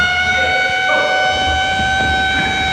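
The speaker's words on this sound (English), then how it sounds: "the siren went off" A steady, loud prison siren at Alcatraz wails continuously with a sustained tone over a low rumble in the background.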